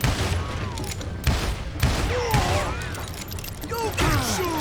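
Gunfire in the video game Call of Juarez: Gunslinger, several loud shots and booms in an irregular exchange with whizzing ricochets, set against busy game background noise.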